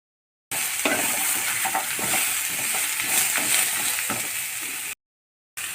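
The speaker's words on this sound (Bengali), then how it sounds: "এর মধ্যে ফুলকপিটা একটু হালকা ভেজে নেব।" Cauliflower lightly frying in a pan, with a constant crackling sizzle and scattered scraping stir clicks, framed by brief silences at the start and end.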